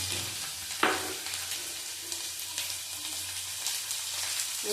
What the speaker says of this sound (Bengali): এই পেঁয়াজটা দিয়ে দিলাম